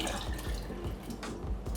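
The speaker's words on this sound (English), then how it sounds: "Add water." Water pours steadily into a pot of daikon radish pieces, a continuous splashing gush with no talk over it.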